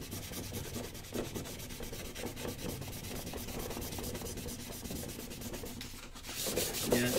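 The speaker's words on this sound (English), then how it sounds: "Keep sanding it until it comes off." Sandpaper rubs along the edge of a water diorama in steady, continuous back-and-forth strokes, a dry scratchy rasp close by with no talking.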